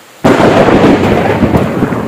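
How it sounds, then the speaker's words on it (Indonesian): Heavy rain during a fishing trip, a sudden loud burst of pouring rain and crackling thunder that hits abruptly and stays dense and close for the rest of the moment. "Makin lama makin deras ini hujannya ya mas bro"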